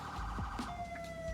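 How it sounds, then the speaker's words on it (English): A CHP police siren from the LSPDFR mod for GTA V wails in a steady, sustained tone that holds loud and close across the whole short stretch, with no talk over it. "this is the CHP siren"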